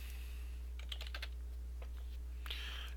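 Computer keyboard keys tapped in two quick bursts of typing separated by a short pause, close and fairly quiet over a steady low electrical hum.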